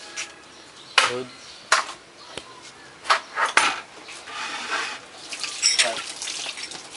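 Water runs from a tap on a ranch, splashing unevenly with sharp clatters of dishes and utensils in a sink and a few drips, while people talk faintly nearby.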